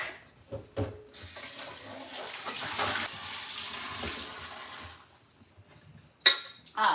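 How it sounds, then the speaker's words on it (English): Water runs steadily from a kitchen tap as a dish is rinsed out, a rushing stream for several seconds that then stops, followed by a few close clunks in the sink; no talking. "I'm gonna rinse this out real quick."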